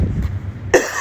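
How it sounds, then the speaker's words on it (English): A single sharp cough bursts out near the end, close and loud, after a quiet low rumble of background noise. "as I cough all over the place"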